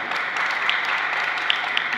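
An audience at a spiritual discourse claps steadily in a dense, continuous wash of applause with a few sharper claps standing out, moderately loud and even throughout.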